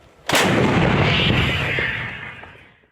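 A single powerful artillery cannon blast booms out on the front line near Kherson, followed by a long rumbling roar that slowly fades over a couple of seconds.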